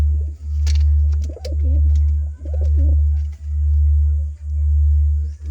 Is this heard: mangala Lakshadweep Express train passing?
no